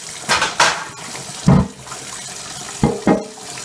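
A pan rinsed under a running kitchen tap, heard as a few short, close bursts of splashing water separated by pauses, with a light clank of the pan.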